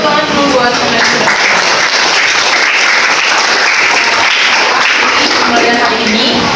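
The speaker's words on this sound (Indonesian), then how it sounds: "tepuk tangan dulu buat teman-teman." A classroom group bursts into loud, close applause, a dense unbroken roar of clapping hands that holds at full strength for several seconds, with voices and cheers faintly mixed in.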